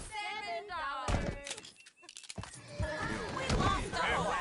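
A horse in Red Dead Redemption gives a shrill whinny at the start, followed by thumps and hoof clatter near a wagon, with people talking over it.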